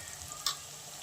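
Spices such as chilli powder and turmeric are stirred in a frying pan over a soft, steady sizzle, with a single quick scrape of the spoon near the middle. Low in level and brief, with no voices.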